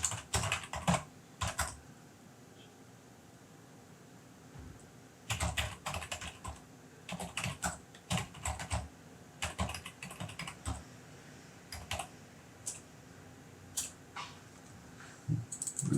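Typing on a computer keyboard while composing an essay, bursts of quick close key clicks separated by short pauses, with no talking.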